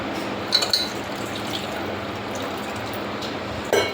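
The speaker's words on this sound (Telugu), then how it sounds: "ఇందులో వచ్చే రసాన్ని ఇందులోకి వేసుకోవాలండి" Tomato rasam juice poured into a vessel, a steady liquid stream with a couple of light clinks, close and continuous for several seconds, no talking.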